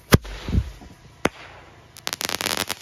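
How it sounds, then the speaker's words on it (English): A Mad Hornet single-shot crackling parachute firework fires outdoors with a sharp launch bang, a second pop, then a dense run of rapid crackles fading out. "Crackling parachute, Mad Hornet Fireworks."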